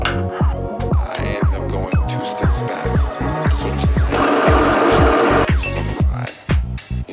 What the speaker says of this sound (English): Grinding doesn't take too long. I was grinding on the finer side for this pour over